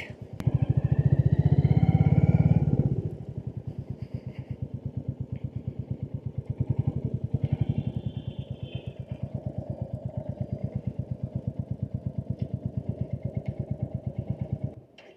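A chrome-finished, fuel-injected Royal Enfield Classic 350 motorcycle engine thumps in a steady, even beat, revving louder at first, then settling into a regular idle that lingers close by.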